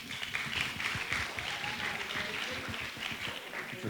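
Audience clapping for a graduate at a physician's oath ceremony, a steady patter of applause heard from a moderate distance amid faint room murmur.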